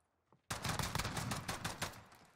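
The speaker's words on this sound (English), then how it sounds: "That was a lot of gunfire for just one guy, dude." Video game gunfire erupts suddenly after a near-silent start, a loud rapid string of shots with sharp repeated cracks that continues without pause.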